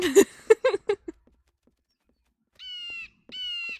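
Two loud squawks from a pet bird inside a Wild West Minecraft-style video game, each a harsh, tonal call lasting about half a second, coming after a brief stretch of speech and then quiet.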